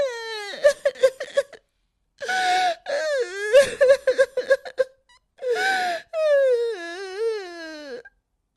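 A girl in a Hindi cartoon moral story wails and sobs in drawn-out, gasping cries with pauses between, close, clear and loud, sounding like a distressed child weeping alone.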